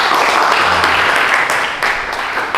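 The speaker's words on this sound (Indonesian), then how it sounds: "Tepuk tangan." Applause from a group at a university teacher-education session in Padang, a dense burst of clapping that holds steady and then eases slightly toward the end.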